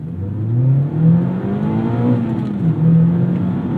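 A Mazda MX-5 Miata ND3 with a 2-liter naturally aspirated inline-4 accelerates hard, engine note climbing through the revs, easing briefly at a shift, then pulling again, close and loud.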